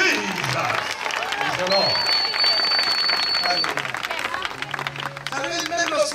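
A crowd at an outdoor Christian crusade gathering in Brazzaville claps and cheers in a sustained wash of applause, loud and dense, with a voice speaking over it.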